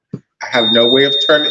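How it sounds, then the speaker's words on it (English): A workplace alarm system sends out a high, thin steady beep that runs under a person speaking close to the microphone, staying constant through the talk. "y'all will hear a beeping noise in the background. It's the alarm system at my job."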